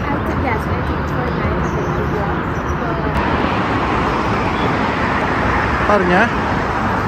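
Highway traffic in San Francisco rolls past as a broad, steady roadway roar, with a passing vehicle swelling near the end while a person speaks briefly over it.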